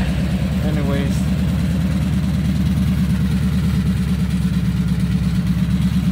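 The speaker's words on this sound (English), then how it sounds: "You can hear the rattling. I guess that's from the cutouts." A Ford Crown Victoria police car with exhaust cutouts and long-tube headers idles nearby in a steady, loud, throbbing low rumble with a faint rattle; a brief rev-like rise comes near the start.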